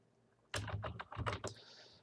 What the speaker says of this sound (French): Vous allez dans Démarrer et vous tapez tout simplement clavier visuel.